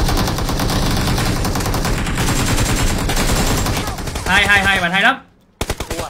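Rapid automatic gunfire rattles nonstop in a shooter video game, loud and dense, with someone speaking over it and a short burst of further shots after a brief silence.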